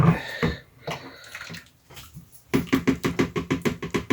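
Lye solution poured into banana buttermilk cold process soap batter, followed by a rhythmic series of wet scraping strokes in the second half, after a quieter stretch with small splashes and knocks.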